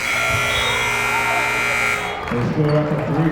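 A long, loud electronic horn blares steadily for about two seconds to close a quarter of a high school boys' basketball game, then cuts off as a commentator starts talking.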